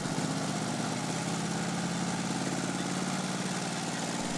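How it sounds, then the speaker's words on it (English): A 1000cc air-cooled Anzani two-cylinder engine in a Demarcay cyclecar racing machine runs at a steady idle, a continuous loud low throb with rapid even pulsing and mechanical rattle, close up with no talk. "a lightweight racing machine powered by a 1000cc air-cooled Anzani 2-cylinder engine"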